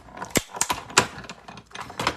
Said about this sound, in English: So 2 swipes of the die cut machine.